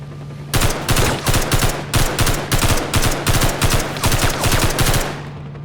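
Rapid bursts of automatic gunfire in quick rhythmic volleys, loud and continuous for several seconds, with the crisp, compressed sound of game audio from S.T.A.L.K.E.R.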